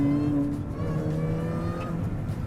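A supercharged MINI set up for the track winds up its engine, a loud rising drone with steady harmonic whine as it pulls hard from inside the cabin, continuous and close.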